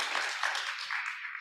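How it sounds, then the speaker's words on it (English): Brief, quiet applause from a gathering at an organic farming association's annual members' meeting, a soft wash of clapping that fades within a second and a half. "Can somebody give a round of applause to my workshop people?"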